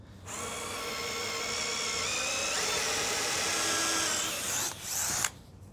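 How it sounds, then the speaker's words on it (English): An electric drill bores into steel under firm pressure for a DIY steel table, giving a close, continuous high whine that holds for about five seconds, then winds down and stops abruptly. "when you're drilling, you want to put a nice lot of pressure on the back of the drill there and going nice and slow"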